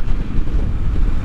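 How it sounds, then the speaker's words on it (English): Steady, loud wind buffets the microphone while riding a motorcycle, a dense low rumbling roar with no breaks across the short stretch. "It is windy today."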